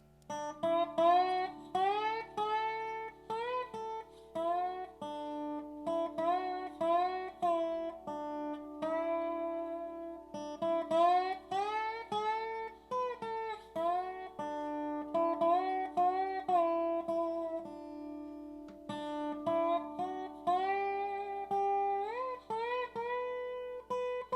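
Twangy dobro played with a slide bar, notes gliding up into pitch in a slow, unhurried melody with no talking.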